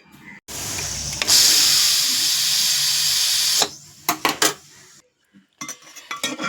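A pressure cooker vents a loud, steady hiss of steam for a few seconds while cooking a sweet-sour green mango mustard dish, then stops, followed by clinking pots and utensils nearby.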